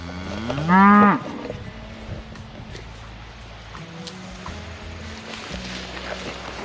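A Highland cow on a farm gives one loud, deep moo near the start, followed by quiet outdoor background and faint distant lowing.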